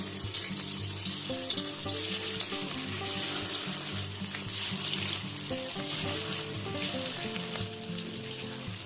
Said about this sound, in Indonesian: ini juga bisa digoreng